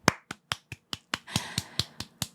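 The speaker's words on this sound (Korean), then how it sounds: "그분들을 위해서 박수 한번 치고 넘어가겠습니다" About eleven crisp hand claps land close by in a slightly uneven rhythm, fairly quiet and with no talking.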